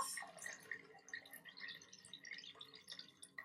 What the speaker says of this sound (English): Let's add our broth